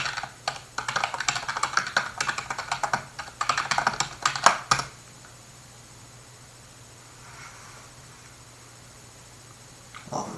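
Computer keyboard typing PowerShell commands: quick bursts of clattering keystrokes for about five seconds, then a pause with only faint room hum, and one last isolated key tap near the end.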